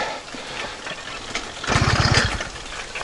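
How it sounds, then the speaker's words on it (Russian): A small petrol engine on a pedal-powered all-terrain vehicle runs with a rough mid-pitched drone that swells louder midway, steady and close with no talking. "Если запустится, то, как сказать, немножко надо погреть двигатель."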